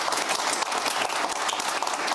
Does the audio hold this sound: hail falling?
no